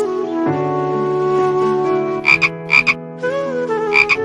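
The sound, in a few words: frog croaking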